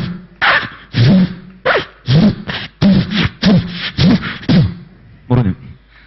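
A mimic's voice imitates timber being sawn at a sawmill on a stage: loud, close rasping bursts in an uneven rhythm, about ten strokes, then a short pause and one final stroke.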